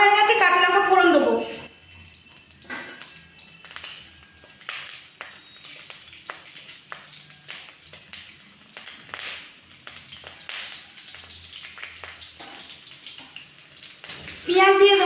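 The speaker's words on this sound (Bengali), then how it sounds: "তেলটা গরম হয়ে গেছে, কাঁচা লঙ্কা ফোড়ন দেবো।" Green chillies are tempered in hot oil in a wok, giving a steady close crackling sizzle with bursts of popping, while someone talks in Bengali at the start and end.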